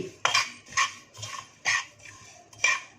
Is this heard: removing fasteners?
no